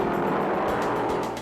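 Stock cars at the 1973 Daytona 500 roar past at racing speed, a loud broadband engine and tire rush that stays strong before easing off slightly at the end.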